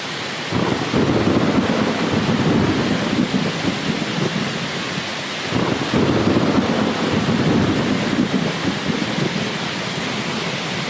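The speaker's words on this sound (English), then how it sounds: "we started with rain, and then we added some thunder to it randomly" Steady generated rain ambience with rumbling thunder rolls layered in at random, a low roll near the start and another swelling around the middle, continuous and full throughout.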